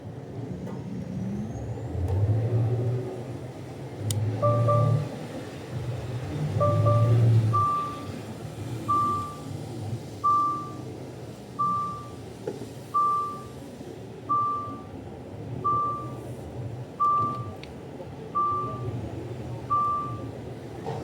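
Reversing beeps from a truck, a regular string of short evenly spaced tones that carries on steadily over rumbling engine and yard noise, with low vehicle sounds loudest early on.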